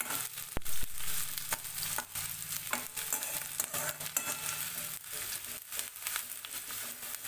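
Chopped onion sautéing in hot oil in a pan for a dhaba-style whole masoor dal, a steady close sizzle broken by repeated scraping and clinks of a spatula against the pan, with no voices.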